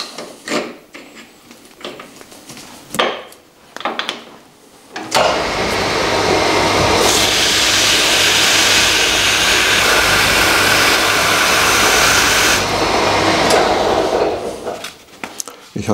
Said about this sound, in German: Ich poliere jetzt den Dorn ein wenig.